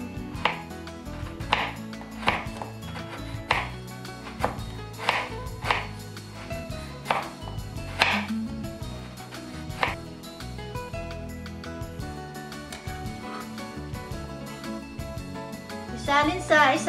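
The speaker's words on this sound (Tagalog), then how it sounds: "Hiwain natin ng pino ang paldo." Paldo, a pandan-type leaf, being finely chopped with a knife on a cutting board for a coffee-flavored barako flan: steady, sharp, close chops in a regular rhythm, with a voice talking faintly underneath.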